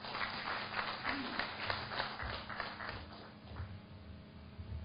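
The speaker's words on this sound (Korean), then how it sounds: "여러분 큰 박수로 환영해 주십시오." Applause from an audience welcomes a National Assembly member to the stage at an international academic conference marking the 1,600th anniversary of the Gwanggaeto Stele, a steady spread of clapping that gradually thins out in a hall.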